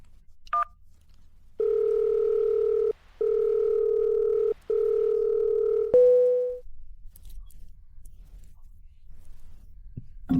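A telephone rings unanswered close by in three long, steady electronic tones separated by brief gaps, then cuts off into a short fading tone and near silence.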